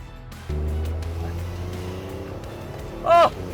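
Hyundai iMax N drift bus on a race track, its engine droning steadily with a low rumble that rises and holds, and a short sharp squeal near the end.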